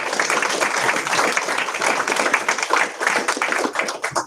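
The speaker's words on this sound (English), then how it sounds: "So give them a round of applause." Applause at a Lincoln Parish school board meeting honoring students, a room full of people clapping steadily at moderate distance, sharp irregular hand claps sustained for several seconds.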